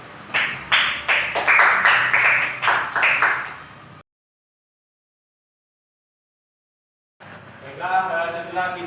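A school class claps hands for several seconds, a burst of rhythmic, fairly close applause that stops abruptly, followed by silence and then a teacher's voice.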